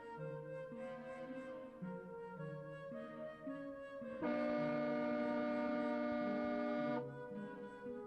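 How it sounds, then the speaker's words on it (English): A long, loud, steady train horn blast sounds for a few seconds over a low droning background tone, then cuts off, in the video game Tales of the Black Forest. "It sounds like a train horn."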